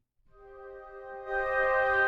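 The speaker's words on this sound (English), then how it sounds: "So starting out again with the Albion Iceni library, we're going to use the Woodwind Combi patch" A woodwind combination patch from the Albion Iceni sample library, a stacked bassoon and clarinet sound, swells in as a sustained chord that grows louder and fuller over about two seconds.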